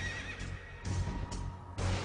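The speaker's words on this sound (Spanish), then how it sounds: "Y vi aparecer un caballo pajizo, cuyo jinete se llamaba Muerte." A horse whinnies in short repeated bursts, a sound-effect style neigh with breathy snorts between calls, fairly quiet and with no voices.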